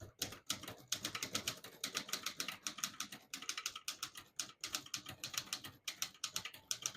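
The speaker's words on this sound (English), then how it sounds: "So we're going to type a sentence in black." A 1953 Smith-Corona Skyriter portable typewriter typing a sentence, with rapid, crisp key strikes in a steady stream, brief pauses between words, and a soft clatter up close.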